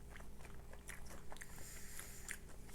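A crunchy bite into a deep fried pickle seasoned with garlic salt and paprika, with several crisp, close crunches and chewing over a steady low hum.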